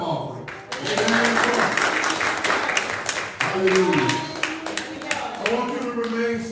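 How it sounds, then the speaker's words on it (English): A church congregation claps together in a dense, steady wash of applause during a worship service, with voices and cheering mixed throughout. "Let's give the Lord a clap offering."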